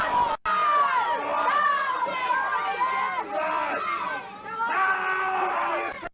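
At a 1979 Britain's Strongest Man event in Woking, a crowd shouts and cheers loudly and continuously, urging a grunting strongman competitor toward the finish, with excited voices rising and falling.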